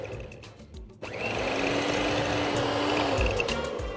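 An electric hand mixer beats eggs and vanilla into chocolate batter for Egyptian bala el sham, starting abruptly and running as a steady, loud whir close by with no talking.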